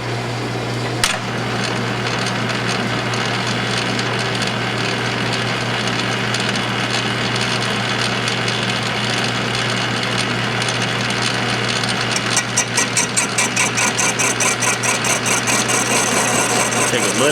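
A brake rotor being resurfaced on a lathe, its surface taken off in a pass: a steady loud machine drone with a sharp click near the start and a fast rhythmic chatter building toward the end.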